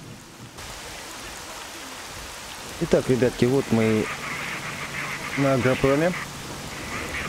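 Steady rain hisses in the video game S.T.A.L.K.E.R. Shadow of Chernobyl, modded with Prosectors Project 1.6, at the Agroprom area; the soft constant downpour continues beneath someone talking.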